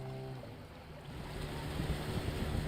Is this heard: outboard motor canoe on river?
yes